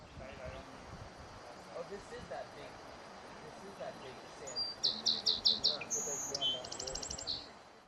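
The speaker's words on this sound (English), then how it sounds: "This much smaller bird has a short beak of a seed eater." Small seed-eating bird in southern Oregon giving a rapid series of high, bright chirps and a short trill over faint outdoor ambience with narration underneath.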